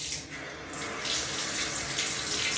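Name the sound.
running water in bathroom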